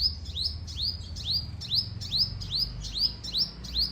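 A sparrow perched in a lemon tree chirps in the morning: about nine bright, repeated chirps in a quick, steady rhythm, close and clear over a low background hum.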